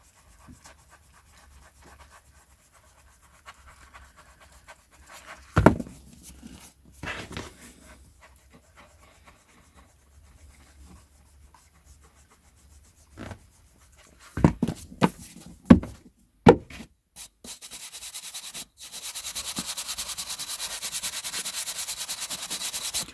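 A rubber eraser scrubbing marks off vintage Great Pan paper, heard as scattered soft rubbing bursts with quiet gaps, ending in a steadier, louder stretch of friction.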